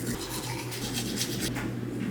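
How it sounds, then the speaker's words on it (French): Teeth being brushed with a toothbrush, a steady close scrubbing rasp with quick back-and-forth strokes running throughout, loud and alone with no talk. "Donc je vais me brosser les dents,"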